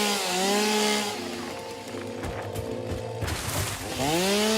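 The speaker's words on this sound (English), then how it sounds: "chainsaw noises" Chainsaw in the video game Satisfactory, a loud, steady buzzing engine drone whose pitch sweeps upward at the start and again near the end, with a rougher cutting stretch in between and no talk.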